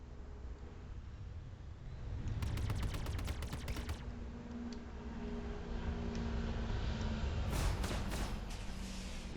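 Ship weapons on a Mustang in the space game Star Citizen fire in a rapid burst of sharp shots, then a second short burst, over a constant loud engine roar.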